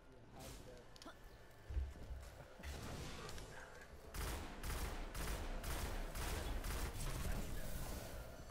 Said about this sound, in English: I got the pulse rifle.